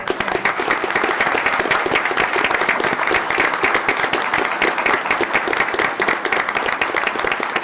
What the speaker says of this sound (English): Stand up for a huge round of applause